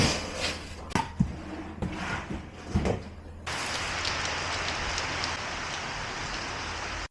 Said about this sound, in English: it's just come down hard with the rain.